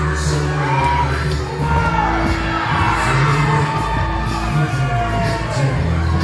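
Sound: wrestling crowd applause and cheering

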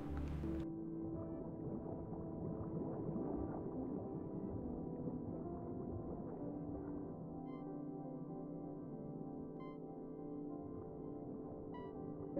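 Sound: whale vocalization in the video game Farsky

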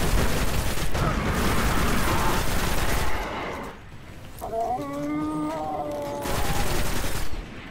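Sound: gunfire from guns in the video game Destiny

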